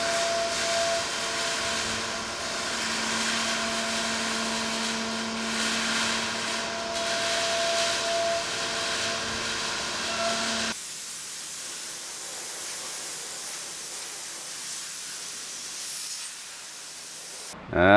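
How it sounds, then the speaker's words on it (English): Milling machine climb milling across a flexure in a compliant linear stage, a loud steady whining cut with tonal hum and spray-like hiss for about eleven seconds, then the cutting stops and a quieter hum continues. "I'm going in this direction, climb milling, so that when we cross this flexure, we are cutting in the strong direction"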